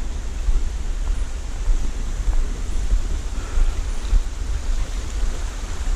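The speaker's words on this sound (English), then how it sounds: "We have a little river to cross." Small river crossing a dirt riding track outdoors, heard as a continuous broadband rush of flowing water mixed with wind buffeting the microphone, steady and fairly loud with no voices.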